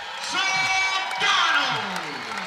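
An arena crowd at McCaslin Fieldhouse roars and cheers after a college wrestling takedown in sudden victory, a sustained loud swell with whoops, peaking briefly and holding steady throughout.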